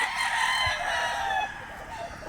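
A white Kelso gamefowl rooster crows once, a drawn-out, moderately close call that trails off, against faint background noise.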